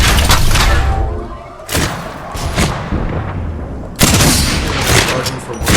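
Minigun gunfire in a video game comes as loud, dense sustained bursts with heavy booming impacts, separated by brief lulls, with a player talking over the action.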